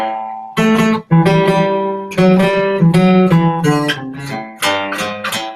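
Open, ringing guitar notes are played one after another, each sustaining fully with a bright, unmuted tone.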